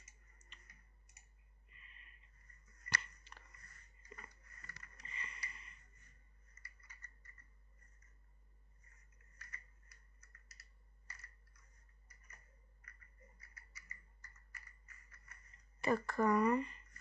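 Quick, light clicks from a computer keyboard come in irregular clusters with pauses, faint and close, and a voice murmurs briefly near the end.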